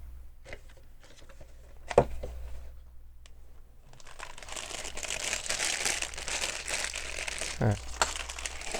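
Sticker sheet from a Lego Speed Champions Pagani Utopia set being handled, quiet intermittent crinkling that grows into steady rustling plastic and paper in the second half.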